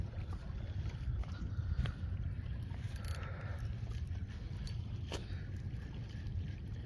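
Steady drone of a motor boat engine running on the Jamuna river, a continuous low rumble mixed with wind buffeting the microphone, fairly close and even in level.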